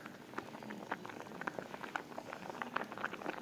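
Bulgur wheat porridge with coconut milk boiling in a pot, giving a soft, steady bubbling and popping patter at low level, with no voices.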